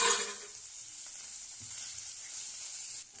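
Goat brain with masala fries on a low flame, giving a soft, even sizzle with faint stirring scrapes throughout.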